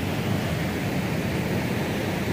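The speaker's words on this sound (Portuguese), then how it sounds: "Beira da cachoeira." A waterfall in the cerrado roars from its rocky, sandy-stone edge, a dense and steady rushing wash without pauses, fairly loud and close, with no voices.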